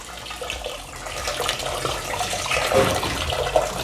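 Water runs into a cooking pot for horse gram rasam in a continuous splashing pour that swells slightly toward the end and stays close and moderately loud.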